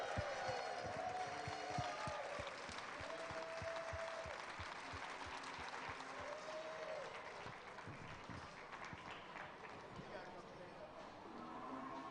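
An audience at a county youth fair and livestock show breaks into applause and cheering at an unveiling. The sustained clapping and crowd noise are fairly faint and distant, with voices talking over them throughout.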